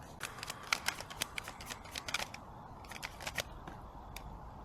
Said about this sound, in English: Okay, want me to do a shuffle?